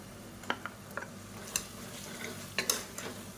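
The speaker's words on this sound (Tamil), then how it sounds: "இப்போ அதை நல்லா வதக்கி விட்டுக்கலாம்." Tomatoes sautéing in hot oil for vegetable pulao, a steady soft sizzle under sharp, irregular clicks and scrapes of a spoon stirring against the pan, close up, with no voices.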